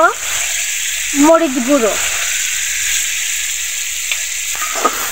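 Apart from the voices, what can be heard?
onion paste and spices frying in soybean oil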